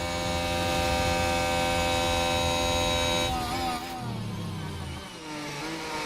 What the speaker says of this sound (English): You can hear that engine de-brake